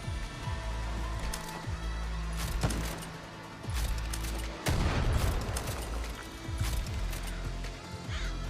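Revolver gunfire in the video game Far Cry: New Dawn, a string of heavy, widely spaced shots with booming tails, one especially loud blast midway, over a steady game backdrop.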